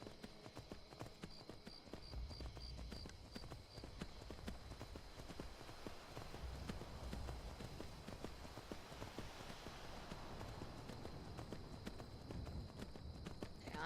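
Rapid, steady clip-clop of horse hooves at a gallop in Skyrim, continuous and fairly close, with a light rushing ambience beneath and a faint repeated chiming tone early on.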